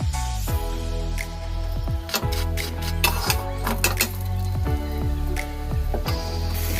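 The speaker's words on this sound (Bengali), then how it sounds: "এভাবে চেপে চেপে ভেজে দিতে হবে, লাল লাল করে ভেজে নিতে হবে" An aloo paratha fries in oil while a spatula presses it down, producing a continuous crackling sizzle broken by scattered sharp taps and squishes, with background music playing over it.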